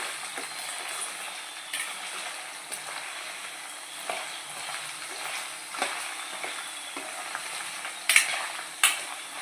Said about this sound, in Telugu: ఇలా లైట్గా బ్రౌనిష్ కొంచెం ఫ్రై చేసుకోండి.